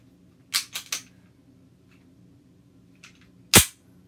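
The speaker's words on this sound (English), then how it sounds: "You want to hit that slide release lever. Gun goes forward." A cleaned handgun is handled with three quick metallic clicks, and then the slide snaps forward when the slide release lever is pressed, a single sharp, loud clack close by.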